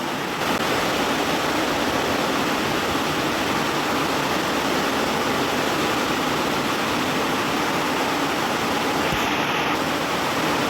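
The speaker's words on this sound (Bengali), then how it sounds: "ছাদে যাচ্ছি বৃষ্টির আওয়াজে কিছু শোনা যাবে না" Heavy rain pours down onto a rooftop in a dense, constant hiss, loud and close, with no voices.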